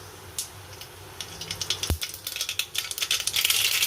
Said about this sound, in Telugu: దీంట్లో కొద్దిగా పెనం పెట్టుకొని కొద్దిగా ఆయిల్ వేసుకోవాలి. అందులోకి కొద్దిగా ఆవాలు వేసుకోవాలి.